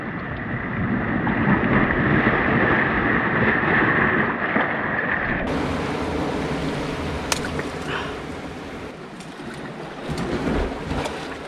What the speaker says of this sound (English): Big waves crashing up everywhere.